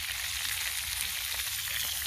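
Potatoes frying in a pan over an outdoor campfire, giving a steady close hiss and crackle of sizzling oil that runs without a break and with no talking.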